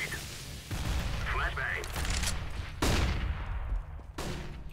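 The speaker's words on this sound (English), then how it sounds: "I'm throwing a grenade" Counter-Strike: Global Offensive match on de_nuke: repeated gunfire bursts and a heavy grenade blast, with sharp loud cracks standing out over a dense, continuous din of battle and people talking.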